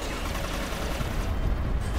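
Dense gunfire rattles nonstop in the shooter game Inversion, heavy overlapping bursts forming a loud, continuous wall of shots with no pauses.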